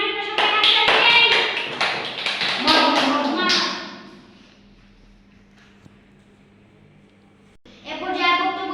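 An audience at an Islamic academy event claps in a loud, busy burst that fades out, then after a quiet stretch a short second round of clapping starts.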